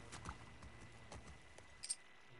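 Horse hooves clip-clop faintly and steadily in The Last of Us Part II, a quiet rhythmic patter of footfalls with no talking.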